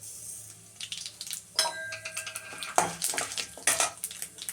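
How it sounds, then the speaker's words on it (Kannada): Mustard seeds go into a hot pan of oil with urad dal, tempering curd rice. Scattered crackles and metallic clinks of a spoon against the pan come close and moderately loud, with no one speaking. "ಇವಾಗ ಸಾಸಿವೆ ಹಾಕ್ತಾ ಇದ್ದೀನಿ"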